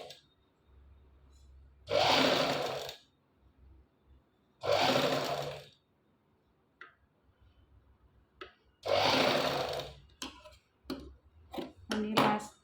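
Domestic sewing machine stitching darts and piping on a garment neckline, running in three loud bursts of about a second each, with quieter clicks and short stitching runs between them.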